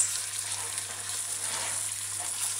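An egg cooks in a pan on a stovetop over low heat, giving a soft, steady sizzle and frying crackle that continues evenly throughout, with no voices.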